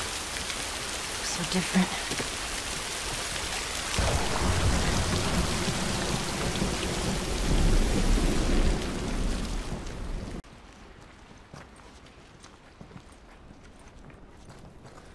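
Rain pours heavily in The Last of Us as footsteps thud along, a dense steady wash that cuts off abruptly to a quiet interior, where a voice speaks briefly; no distinct thunder stands out.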